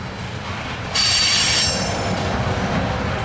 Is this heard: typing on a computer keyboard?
no